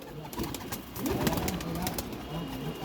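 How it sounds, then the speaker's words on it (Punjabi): Young pigeons coo nearby in low, rolling calls, repeated several times over a steady background hiss. "ਇਸ ਕਬੂਤਰ ਦੇ ਬੱਚੇ ਜਿਹੜੇ ਆ ਅਵਤਾਰ ਭਾਈ ਕੋਟ ਦੇ ਆ"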